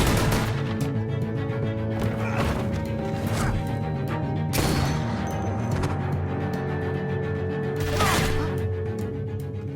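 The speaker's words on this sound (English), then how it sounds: "I hear gunfire." Gunfire in a tense shootout, several sharp, loud cracks spaced irregularly a few seconds apart, over a droning tonal score.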